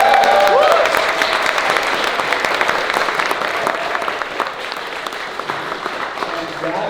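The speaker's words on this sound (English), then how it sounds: "let's give another round of applause for it" An audience at a film screening Q&A claps in a warm, sustained round of applause that starts strong and gradually thins out, with a little voice at the beginning.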